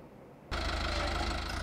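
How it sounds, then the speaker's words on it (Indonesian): Tractor engine running on a farm field in Kenya, a steady loud rumble that starts abruptly and continues without pause. "Sebuah traktor baru tiba di ladang Hello Tractor di Kenya"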